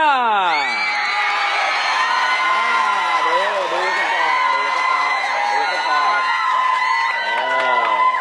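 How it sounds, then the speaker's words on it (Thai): A Saraburi cheering squad shouts, whoops and cheers loudly and steadily for about eight seconds, with high, excited voices overlapping throughout at a national rock-paper-scissors contest. "กองเชียร์สระบุรีส่งเสียงมา"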